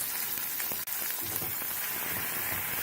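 Tomatoes, ginger garlic paste and green chilies fry in a pan for a corn cob curry, giving a steady, soft sizzle with crackling spatters throughout and one brief dip near the start.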